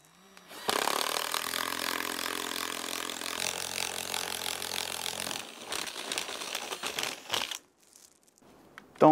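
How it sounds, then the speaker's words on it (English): Impact driver drilling holes in wood while building a chick brooder: a loud, continuous buzzing rattle that runs several seconds, then breaks into short choppy bursts before stopping. "Don't use an impact driver to drill holes."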